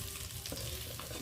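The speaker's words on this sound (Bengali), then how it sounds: "এইভাবে আমি পুরো কই মাছটা ভেজে নেব" Koi fish (climbing perch) frying in hot oil, giving a steady broadband sizzle with small crackles and pops, close and continuous, with no voices.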